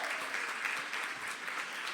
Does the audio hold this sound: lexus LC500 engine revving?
no